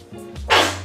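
A small dog sneezes once, a short sharp burst of breathy noise after a brief tonal whimper or snort, close by and fairly loud indoors.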